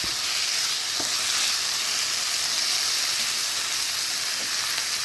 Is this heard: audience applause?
no